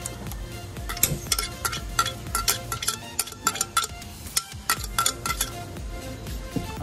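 Raw pork being stirred and mixed with a bulgogi marinade in a mixing bowl, close-up wet squelching with irregular clinks of a utensil against the bowl, no talking.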